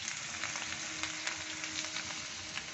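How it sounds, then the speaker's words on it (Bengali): Cubed potatoes sizzle in hot oil in a wok, a steady dense crackle with small popping spikes throughout, close and fairly quiet with no voices. "আলু ভাজা হচ্ছে"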